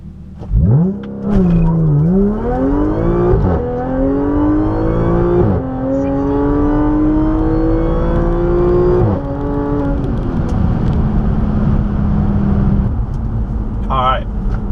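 An Audi S4 accelerates hard during a timed run. The engine revs climb loudly through several gear changes, each shift marked by a brief dip in pitch, with a little tire noise at launch. A voice is heard at the end.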